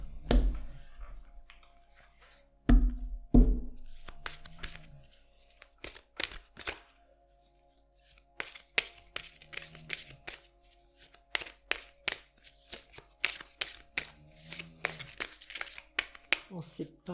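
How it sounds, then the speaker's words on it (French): Oracle cards are shuffled by hand in a quiet room, giving bursts of crisp, close riffling and flicking that come and go between stretches of someone talking. "Là, je vais faire un tirage de l'oracle."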